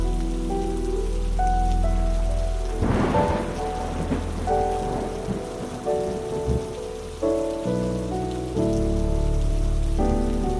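Heavy rain pours steadily in a forest during a thunderstorm, with a loud thunder crack and rumble around the third second, then continued dense downpour under a low, sustained drone.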